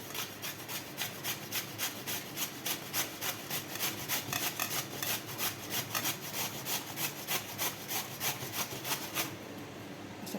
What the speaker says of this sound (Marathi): आपल्याला आता हे वरचं साल न काढताच कैरी खिसून घ्यायची आहे